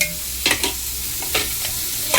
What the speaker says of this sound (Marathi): आणि इथे मच्छी फ्राय करून घेते